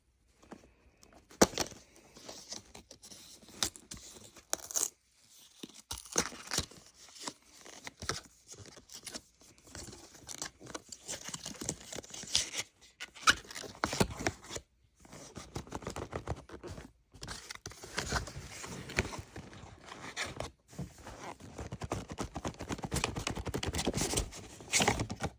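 Opening a taped cardboard box holding an Anker Prime 100W power bank, close crinkly rustling, tearing and tapping of cardboard and packaging in irregular bursts with short pauses, no talk.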